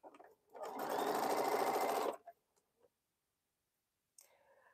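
A sewing machine runs in one steady burst of close stitching for about two seconds while quilt pieces are joined, then stops, followed by a few faint clicks and a brief voice.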